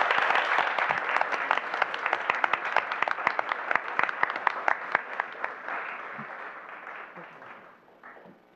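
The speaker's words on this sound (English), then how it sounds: "Can we give them a round of applause" Board meeting audience giving a round of applause, steady moderate clapping from a roomful of people that tapers off toward the end, with a voice briefly heard.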